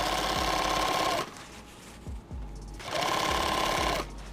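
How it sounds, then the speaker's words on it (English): A sewing machine stitches a kit bag close to the edge, running in two loud sustained bursts with a brief pause between them, close up with no talking. "And I'm sewing pretty close to the edge."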